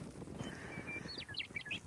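Bird of unknown species chirping outdoors on a road trip toward Alaska, a quick series of faint high tweets near the end over low steady background rumble.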